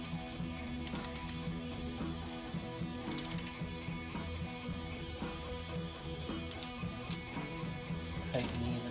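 A torque wrench ratchets in short, quiet bursts of clicks while tightening cylinder bolts on a Ural motorcycle, with pauses between strokes over a low background hum.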